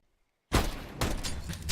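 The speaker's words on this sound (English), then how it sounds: "it's just all gunfire all the time, man." Gunfire in a Counter-Strike match during a Latin American esports tournament: after a brief silence, a sudden loud burst of shots erupts, followed by continued dense firing that stays close and sustained.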